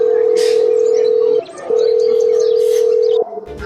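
A telephone dial tone sounds loud and close as a steady pure tone, briefly breaking off once partway through before resuming, then cutting out near the end.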